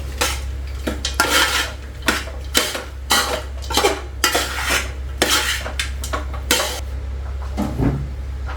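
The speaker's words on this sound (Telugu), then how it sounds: "ఇప్పుడు దీంట్లో రైస్ వేసి కలిపోయడమే" A spoon stirs rice into a hot tempering in a metal pot, producing repeated scraping and clinking strokes in an uneven rhythm, close and fairly loud over a steady low hum, with no talking.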